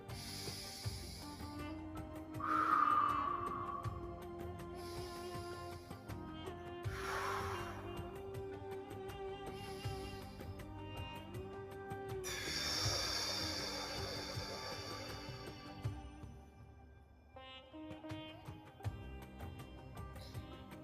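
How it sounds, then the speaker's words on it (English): Deep, slow breaths drawn in and released, rising as soft airy swells over gentle ambient meditation music with bell-like tones. "take 3 cleansing breaths in and out to restore"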